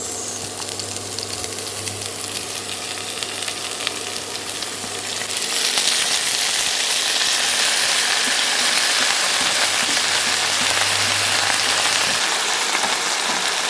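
Giant lemons drop into hot roasted pickle seasoning and sizzle loudly, a dense, steady frying hiss that grows fuller midway and runs without a break.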